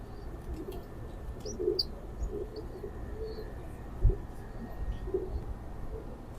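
A young Lalpari pigeon pair, a ringed hen and a cock, giving soft low coos at irregular intervals against steady outdoor background noise, with faint chirps from other birds higher up.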